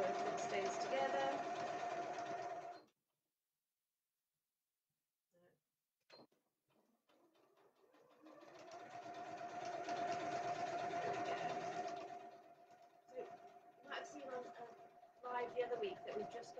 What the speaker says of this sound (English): So just a nice straight stitch all the way along with a nice even seam allowance of 1 centimeter.